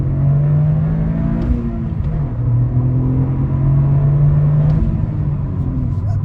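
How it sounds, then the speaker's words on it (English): Toyota GR Corolla engine revving hard up to the limiter, a loud raspy rising note heard from the cabin with a shift dip partway through and brief limiter bumps. "You do get on the rev limiter really quick."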